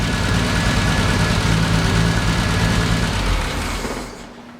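A 1973 Triumph TR6 engine runs steadily with a low, even idle rumble, then dies away in the last second as it is switched off.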